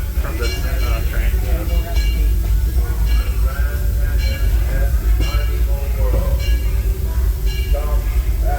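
Disneyland Railroad steam train on a rainy day, rolling to a stop at a station with rumbling wheels, hissing and intermittent squeals and clanks, under a continuous station announcement voice.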